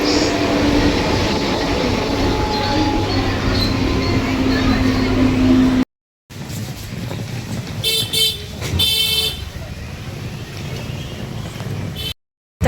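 A train rumbles steadily nearby, then after a brief break a couple of horn-like toots sound over the ongoing noise.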